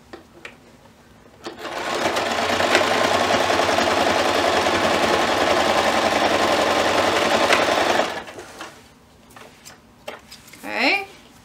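A sewing machine stitches a box pouch seam in one continuous run of about six seconds, close and steady. Brief voices and small handling noises follow.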